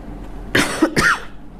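Two short, harsh coughs in quick succession, close and fairly loud, with quiet room noise before and after.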